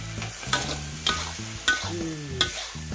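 Chili tossed into a hot pan with green mussels, lime leaves and basil for Thai drunken-style stir-fried noodles, sizzling steadily close up with a clanking spatula scraping and stirring in a regular rhythm about every half second.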